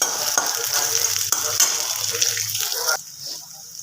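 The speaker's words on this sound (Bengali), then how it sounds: "একটুখানি পেঁয়াজ কুচি পেঁয়াজটা বেশ লাল করে আমি একটু ভেজে নেব" Chopped onion fries in hot oil and ghee in a pan, crackling over a continuous sizzle broken by a couple of stirring knocks, and the hiss drops away sharply near the end.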